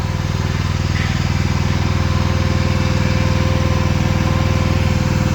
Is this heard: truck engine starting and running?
yes